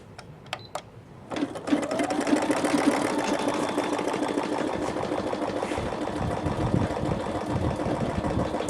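A Brother ULT 2003D sewing machine stitching felt with metallic thread: a few sharp clicks, then the motor spins up to full speed in a fast, even, close whirring patter that holds steady to the end.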